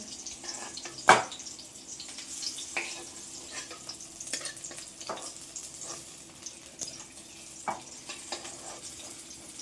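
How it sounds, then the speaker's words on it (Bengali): Pointed gourds (potol) fry in oil for a Bengali paturi dish, a soft steady sizzle broken by scattered crackles and one sharp knock early on, fairly quiet with no talking. "পটলগুলো ভাজা হয়ে গেছে দেখো একদম নরম তুলতুলে হয়ে গেছে"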